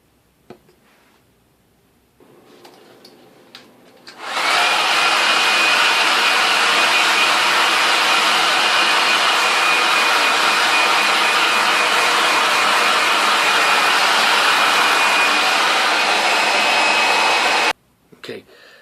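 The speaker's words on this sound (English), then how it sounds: "now you're going to go back to your hair dryer and do that same thing again" A hair dryer blows steadily at close range for about thirteen seconds, drying a glue coat on handmade character gloves, with a constant high whine over the rushing air, then cuts off abruptly.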